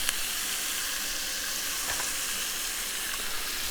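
Onion sizzles steadily in hot oil inside a Dutch oven, a constant close frying hiss with faint stirring scrapes, no voices.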